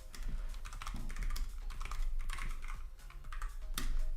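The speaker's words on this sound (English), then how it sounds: "Split keyboard." Rapid typing on a split computer keyboard: a steady run of close, crisp key clacks with no pauses and nobody talking.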